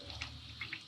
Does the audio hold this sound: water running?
yes